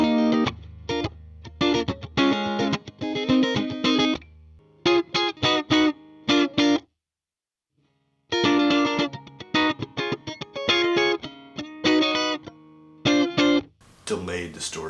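An electric guitar on its front pickup, run through a delayed distortion effect, plays choppy bursts of notes and chords in stop-start phrases with brief silent gaps and a gritty, echoing tone.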